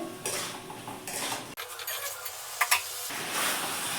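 A lid is lifted off a pot of chicken curry: metallic clanks and a scrape of the lid against the rim, close and fairly quiet, with a brief sizzle from the pot and no voices.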